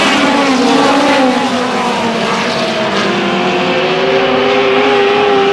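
Dirt track race cars scream through a corner at Susquehanna Speedway, engines loud and close and rising in pitch as they surge ahead, several motors overlapping in a steady roar.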